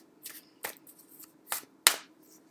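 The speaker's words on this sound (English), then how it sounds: "I'm just going to shuffle those up and pick one for each of those" Tarot cards are shuffled by hand in a quiet room, giving four separate brisk riffling bursts, the last one a sharp snappy flick.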